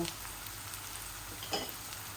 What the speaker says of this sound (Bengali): এখন এগুলা একটু ভাজা ভাজা হোক